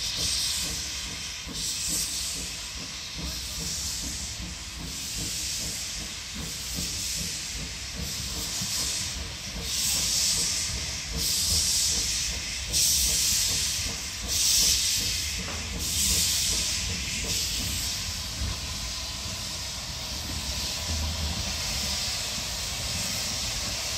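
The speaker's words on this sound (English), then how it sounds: "we've got a steam engine going" A steam locomotive running at a heritage quarry railway members' day in the rain gives a continuous loud steam hiss with faint rhythmic chuffing and rumble underneath, steady throughout with no talking.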